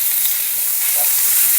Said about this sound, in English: And we're going to fry off the pork belly.